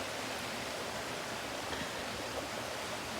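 A mountain stream flows in summer, its water rushing in a steady, full hiss that stays constant and close throughout, with no voices over it.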